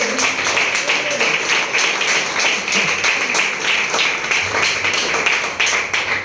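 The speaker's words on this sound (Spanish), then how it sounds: "Den un aplauso a nuestro Padre." A church congregation claps along in a loud, rhythmic pattern, sharp regular beats repeating throughout, mixed with background music or singing rather than a plain ovation.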